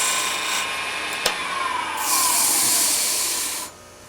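Skew chisel cutting a turned wooden detail box on a lathe, a steady close scraping hiss with a sharp click near the start and a brighter, louder cutting stretch before it stops abruptly.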